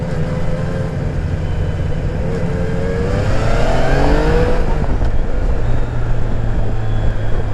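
Yamaha Niken 900 three-wheeled motorcycle with its stock exhaust, a steady engine drone that rises in pitch as it accelerates, loud and continuous with wind noise over the top and no talking.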